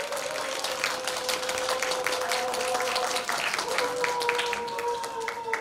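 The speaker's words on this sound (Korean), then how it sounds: "나오실 때 다시 박수." An audience applauds at a volunteer award ceremony in Korea as honorees come to the stage, with continuous mid-distance clapping and steady tones running underneath.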